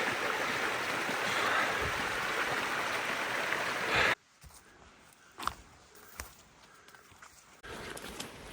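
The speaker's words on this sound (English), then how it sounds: "Well, that's a fun river crossing." A mountain river rushes loudly over rocks at a trail crossing on a spur track, a broad steady roar that cuts off abruptly, leaving quiet scuffs and footsteps on the bank.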